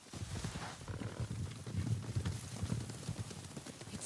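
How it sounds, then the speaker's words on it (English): Horses gallop in the Ghost of Tsushima video game, a steady, rapid clatter of hooves under a rumbling, noisy wash, fairly faint and continuous without speech. "Horses, they're coming for us."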